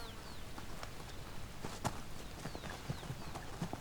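Konik pony hooves clip-clop quietly and unevenly on the ground at a Polish stable, faint and moderately distant, with some soft background noise and no voices.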